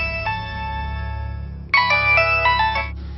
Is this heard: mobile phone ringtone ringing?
yes